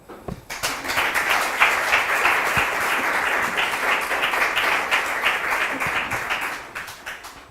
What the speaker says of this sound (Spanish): Pues muchas gracias a todos ustedes por el aplauso